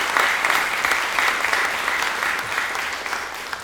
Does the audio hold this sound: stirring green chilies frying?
no